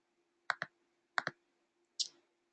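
Mouse clicks on a computer while signing up for an event through a volunteer portal: two quick double clicks, then a single click, crisp and close in a quiet room.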